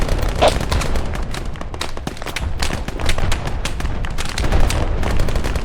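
Rapid volleys of high-explosive artillery and gunfire in an Arma 3 style combat game on Altis, a loud continuous barrage of overlapping booms and cracks with no pause across the span.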